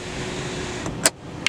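A Volkswagen car's electric sunroof motor whirs briefly and quietly inside the cabin, followed by a couple of sharp clicks as the roof moves.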